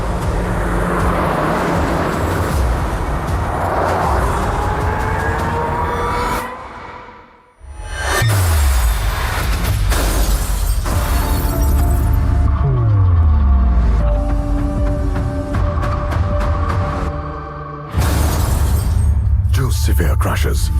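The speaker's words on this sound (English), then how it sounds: "The same car now faces a second high-severity side impact." A Tata Tiago CNG hatchback takes a second high-severity side impact in a crash test, heard as loud rumbling roars with a sharp dropout midway and a sudden return, bright metallic crunch and scraping layered through the noise.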